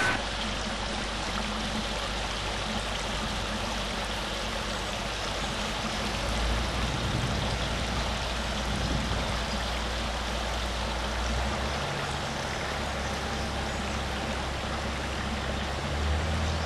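A garden pond waterfall cascades continuously over a liner, a steady broad rushing splash that stays constant and close throughout, with no voices.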